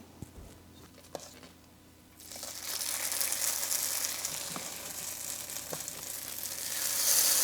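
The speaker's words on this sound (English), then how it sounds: "Now we're going to heat it up and fry up our patties." Patties frying in a generous layer of olive oil in a pan: quiet at first, then a sudden bright sizzle that swells and stays loud, with a few small taps from the pan.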